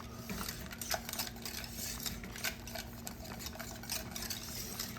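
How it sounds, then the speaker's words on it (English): Spoon stirring cheese into sauce in a pot on low heat for mac and cheese, soft repeated scraping and clinking at a quiet, steady pace over faint background hum. "we're going to give it a good stir"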